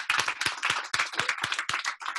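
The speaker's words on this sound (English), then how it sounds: "Give yourself a round of applause." A small group at a real estate seminar claps for themselves in a brief burst of sharp, distinct handclaps, close and fairly sparse, with individual claps audible.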